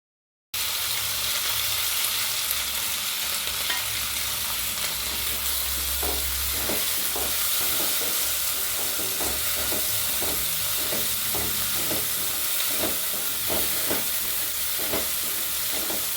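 Tomatoes dropped into a curry sizzling in a frying pan, a steady loud hiss of frying with repeated scraping strokes of a spoon as it is stirred, no voices.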